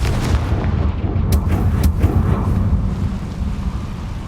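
A Confringo spell blast in Hogwarts Legacy rolls out as a heavy, sustained booming rumble, with a couple of sharp cracks partway through and no talk over it.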